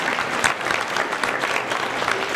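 Brief, steady clapping from an audience at a college business idea competition, a dense wash of applause over a couple of seconds.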